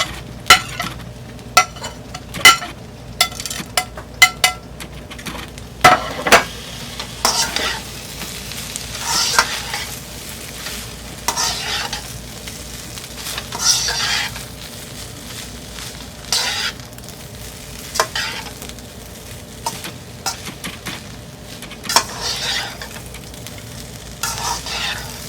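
Mutton fried rice with vegetables and eggs stir-fried in a pan, steady sizzling with repeated sharp scraping and clanking stir strokes, loud and close, no talking.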